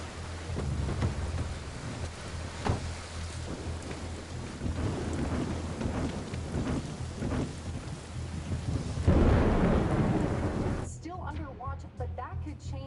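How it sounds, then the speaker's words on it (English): Heavy rain pours down steadily with low rumbles of thunder rolling underneath, swelling briefly loud before a voice speaks near the end. "비가 내립니다."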